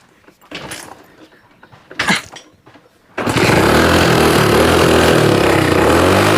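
A few clanks and knocks, then a restored scrap motorcycle's smoking, fuel-starved engine bursts to life partway through and runs loud and steady with a deep, throaty idle.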